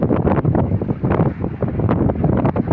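Strong wind gusting at a harbour at 35 knots, with gusts to 40, roars and buffets a handheld phone microphone in a loud, continuous, turbulent rush.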